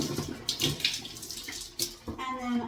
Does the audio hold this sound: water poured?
yes